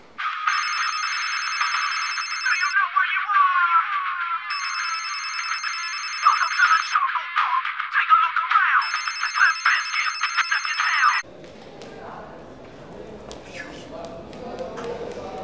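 A telephone rings in a drama scene, repeated electronic ring bursts with short gaps, loud and close, then stops and low background sound follows.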